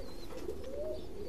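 Mysore pigeons at a pigeon farm giving a brief, low, continuous coo, moderately loud and close, over a steady background hum.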